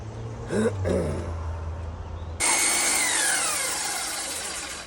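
A power tool motor bogs down and strains against hardwood while building a rustic pallet-wood end table, loud and close, with broadband whine rising sharply after a brief lower-pitched grinding start.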